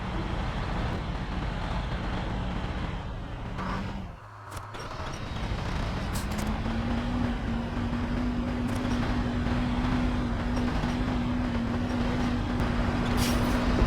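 A Fleetstar truck in SnowRunner, played on hard mode. The engine drones steadily and loudly the whole time, with a brief dip and clunk partway through, then a rising engine tone that holds.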